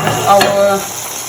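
Onion tipped into a hot pan for pepper steak, a quick burst of loud, close sizzling that settles within about a second.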